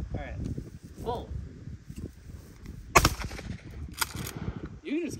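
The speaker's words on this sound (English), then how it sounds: "You can just keep shooting." Handgun shots at an outdoor shooting range: a few sharp, loud reports ring out among people chatting, with one strong crack standing out partway through and another fainter one later.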